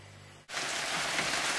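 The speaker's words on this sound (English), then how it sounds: "It's raining again." Rain falling outside suddenly rises into a steady, dense hiss of drops on surfaces that holds loud and even after a brief quiet start.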